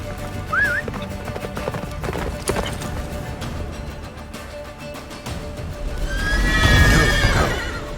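A horse in The Witcher 3 whinnies briefly near the start, then its galloping hooves pound on with rising loudness as a second neigh rings out toward the end.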